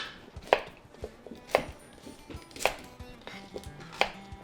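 A knife chops through onions on a cutting board, four sharp, evenly spaced thuds about a second apart, close and fairly quiet with no talking.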